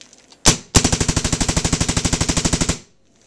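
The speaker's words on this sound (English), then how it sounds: "Go ahead and just pop off a few shots with this." A Planet Eclipse Ego 10 paintball marker fires one sharp shot, then a rapid evenly spaced burst of about twenty loud pops lasting roughly two seconds, close and without voices.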